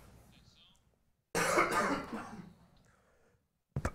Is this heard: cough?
yes